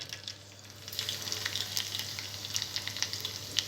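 Tempering seeds and garlic frying in hot oil in a pan on a stove, a continuous soft sizzle dotted with sharp crackles and pops, close and fairly quiet.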